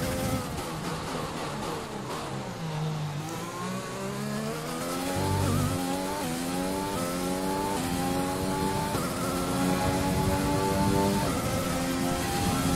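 An F1 2020 race car at full throttle through a flat-out uphill corner, its engine note climbing steadily through the gears and loud and close throughout, with no talk.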